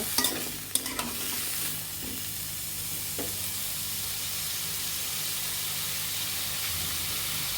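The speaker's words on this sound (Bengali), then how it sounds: "সবজিগুলো ভালোভাবে উল্টিয়ে পাল্টিয়ে নেব" Vegetables tossed and fried in a pan for a thin prawn and drumstick curry, with a few sharp stirring scrapes at first, then a steady loud sizzle and hiss.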